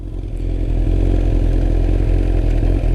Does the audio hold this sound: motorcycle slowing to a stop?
yes